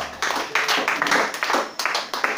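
A church congregation at a worship service claps in acclaim, a burst of irregular close applause with uneven swells and a few louder claps.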